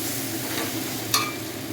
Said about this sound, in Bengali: সব ভাজা হয়ে গেছে, ফ্রাই হয়ে গেছে, মালটা ভালো করে ফ্রাই হয়ে গেছে।